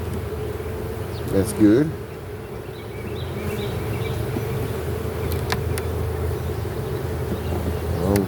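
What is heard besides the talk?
honeybees buzzing around hive splits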